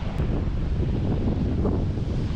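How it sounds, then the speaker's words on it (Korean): Strong wind buffets the microphone over crashing ocean surf on the Muxía coast near Finisterre, a continuous loud roar with no pauses. "진짜 파도가 미쳤어"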